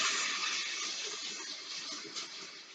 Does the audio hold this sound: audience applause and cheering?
no